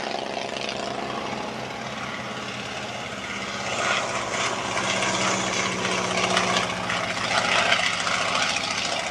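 A 1933 Avro Tutor, a vintage propeller biplane, drones overhead at an air show, its engine a steady broadband roar that swells louder toward the end as it passes closer.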